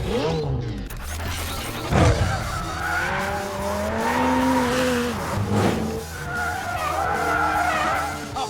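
A McLaren 720S sports car driven hard in track mode, its engine rising and falling through gear changes along with tire skids and squeals, loud and close throughout.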